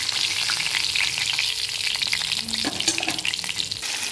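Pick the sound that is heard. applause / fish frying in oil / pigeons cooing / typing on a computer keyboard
fish frying in oil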